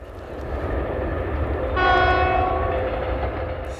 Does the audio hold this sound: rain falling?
no